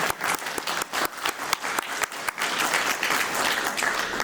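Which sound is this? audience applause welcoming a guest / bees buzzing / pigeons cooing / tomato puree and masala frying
audience applause welcoming a guest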